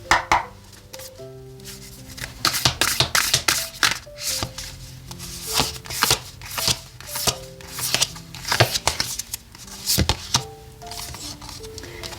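Oracle and Lenormand tarot cards are shuffled in a run of quick, close, papery riffles and slaps, steady for about twelve seconds, with faint background music underneath and no speech.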